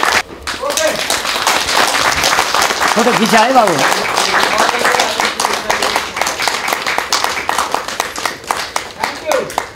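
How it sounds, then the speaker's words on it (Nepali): An audience claps for donor Dilliram Pokhrel at a community gathering with a panchebaja band's women's group, steady dense applause lasting several seconds while a voice talks over it. "दिल्लीराम पोखरेललाई जोरदार ताली दिउँ"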